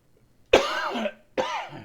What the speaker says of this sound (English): Yeah, coughing fits incoming.